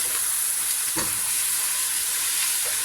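Minced beef frying in a hot pan while being stirred, with a steady close sizzle and a brief scrape of the spoon near the one-second mark, for the shepherd's pie filling.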